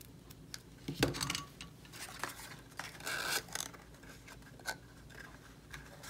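Scissors trim the loose end of a double-knotted ribbon on a small paper gift box. A few crisp close snips and light paper rustles sound against a quiet room.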